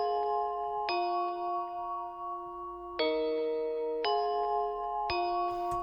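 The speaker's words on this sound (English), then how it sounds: "He sent me like a really nice basic bell chord progression" A basic bell chord progression loop made in FL Studio rings out as sustained chime-like chords, changing every second or so with a crisp attack on each new chord, played cleanly with nothing else underneath.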